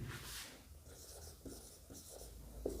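Marker or chalk writing on a board while working a geometry proof, with soft strokes and rubbing at an even pace, a quiet room tone underneath and a small tap near the end.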